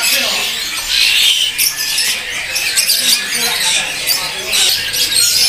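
A male panda canary at a bird kiosk sings loud, bright chirping trills close by in quick repeated bursts, with someone talking over it.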